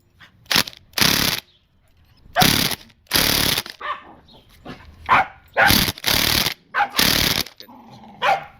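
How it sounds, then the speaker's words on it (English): Dogs bark at a house during a car repair, a series of loud, close, sharp barks in irregular bursts separated by quieter gaps with faint mechanical noises. "we got dogs in the background"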